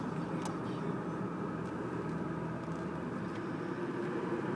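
A 2002 Pontiac Montana long-wheelbase van cruising along, its steady engine and road noise forming a continuous, fairly loud drone with no talking.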